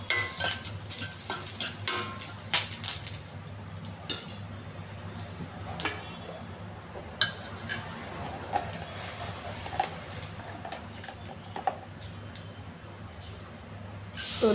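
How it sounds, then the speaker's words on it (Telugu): Curry leaves frying in a pan while being stirred, with repeated scraping and clinking of a spoon against the metal over a steady low sizzle, close and fairly quiet, with no talking. "బాగా వేగించాలి కరివేపాకు."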